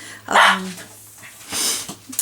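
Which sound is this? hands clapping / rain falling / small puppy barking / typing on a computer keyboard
small puppy barking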